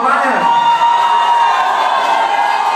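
Crowd cheering, whooping and applauding at the Zlatý David award ceremony in Prague, a steady loud roar that holds from start to finish, with a brief rise in shouting at the opening.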